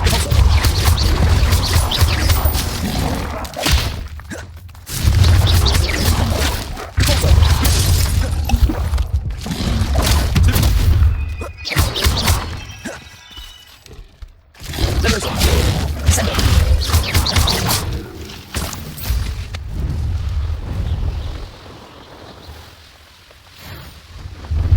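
Explosion spells cast in the video game Hogwarts Legacy, a long run of loud, close blasts and crashing bursts in heavy clusters, broken by brief quieter gaps, with dense battle noise all around.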